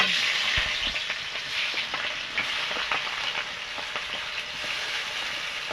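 Chopped onion and garlic fry in hot oil in a wok, giving a loud, continuous crackling sizzle that holds steady throughout with no voices.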